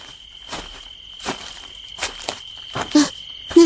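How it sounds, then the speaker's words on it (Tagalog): Crickets in nighttime woods give a steady, thin, high chirring drone throughout, with soft footstep-like scuffs and a few brief rustles cutting in at intervals. "Tahimik ang paligid at tanging tunog ng kuliglig ang maririnig naming lahat."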